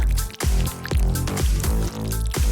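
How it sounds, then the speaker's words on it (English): Dark hot glue is dripped onto a small figure in a run of about five soft, wet plops spaced under a second apart, close and fairly loud. "Drip on some dark hot glue."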